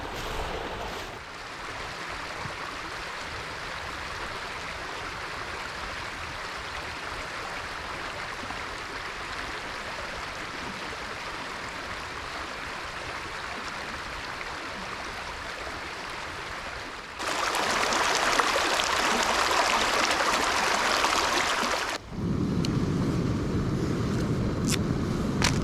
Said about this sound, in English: get some water from this stream